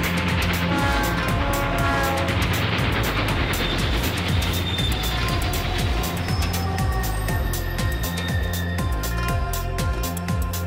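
A train in the Philippines rumbles past close by, with steady rolling noise and rhythmic rail clatter running loud and continuous throughout.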